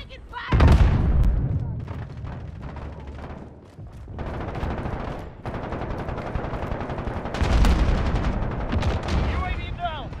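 Gunfire in Call of Duty Modern Warfare, a multiplayer battle with bursts of automatic rifle fire and heavy booming blasts in several loud clusters, under intermittent voices.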